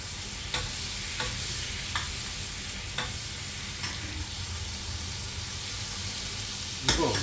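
Ribeye steak frying in hot oil in a pan, a steady close sizzle throughout with a few sharp ticks and clatters of the pan.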